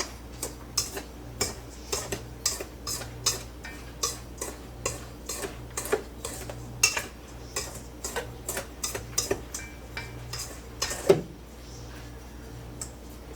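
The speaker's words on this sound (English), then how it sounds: "Give the sugar and the pectin a little bit of stir." A spoon stirs sugar and pectin together in a bowl for blackberry jam, making a regular series of quick scraping ticks about two per second, close and moderately loud, with a slightly louder clack near the end and no talking.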